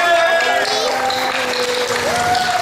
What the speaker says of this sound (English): Have another round of applause.